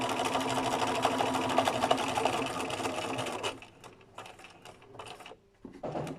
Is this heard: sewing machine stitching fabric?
yes